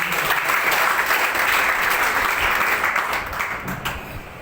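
A large audience at a marketing company speech event claps steadily and densely throughout, loud and sustained, easing off slightly near the end with no voices.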